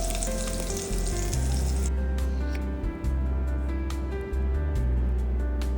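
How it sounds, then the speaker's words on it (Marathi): Cumin, mustard seeds, curry leaves, chili and garlic hit hot oil with a loud, close crackling sizzle that briefly flares bright, then settles into steady spattering with sharp popping ticks. "त्यामध्ये जिरं, मोहरी, कढीपत्ता, मिरची आणि लसूण टाकायचा."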